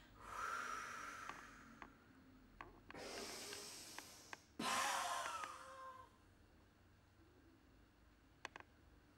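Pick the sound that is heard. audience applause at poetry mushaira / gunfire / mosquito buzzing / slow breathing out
slow breathing out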